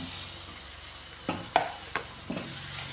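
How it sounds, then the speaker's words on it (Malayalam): Tomato added to hot oil with chili powder and stirred in a pan for a Kerala coconut papadam curry, a steady soft sizzle with several sharp spoon scrapes and clatters near the middle. "ഇതും കൂടെ ഇതിലിട്ടൊന്ന് വഴറ്റിയെടുക്കാം"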